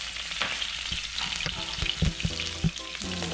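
Pork and garlic fry in about a tablespoon of oil over high heat, sizzling steadily and close, broken by several knocks and scrapes of stirring.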